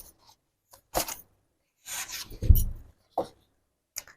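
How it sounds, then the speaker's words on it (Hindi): Tarot cards drawn from a deck give a few close, soft papery slides and rubs in short separate bursts, with one firmer tap of a card set down, in an otherwise quiet room. "आइए एक दो कार्ड और निकालते हैं।"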